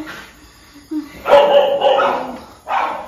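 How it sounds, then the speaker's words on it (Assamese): Dogs bark close by in loud, drawn-out bursts, with a short yip first and a final bark after a brief pause. "এই কুকুৰকেইটা ইমান ভুকিছে"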